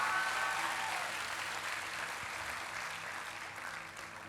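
A church congregation applauds, a broad sustained clapping that stays loud throughout and fades only slightly toward the end.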